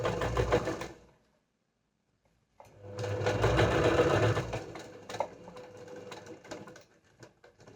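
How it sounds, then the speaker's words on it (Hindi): A sewing machine stitches fabric for palazzo pants in two runs of steady mechanical whirring: a short burst, about a second and a half of silence, then a longer, louder run that trails off unevenly. "और अब हम स्टिच लगाएंगे यहाँ पे।"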